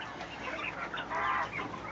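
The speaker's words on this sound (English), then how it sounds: "As I've been listening to them crow" Australorp chickens held in a cage cluck and call in overlapping bursts, with a rooster's crowing rising near the middle, moderately loud and close with no talk.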